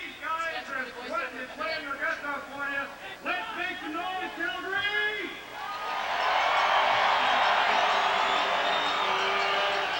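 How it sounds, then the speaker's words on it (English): Stadium crowd at a Canadian Football League game between Winnipeg and Calgary in 1994, starting with announcers talking and then swelling into a loud, sustained roar of cheering fans that fills the second half. "They've got a good crowd here."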